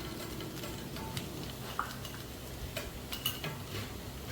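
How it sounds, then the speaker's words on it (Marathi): Fasting-style potato vegetable with ground peanuts being stirred in a pan, a quiet, low sizzle under faint scrapes and a few sharp utensil clicks against the pan. "आणि भाजी व्यवस्थित हलवून घेणार आहोत"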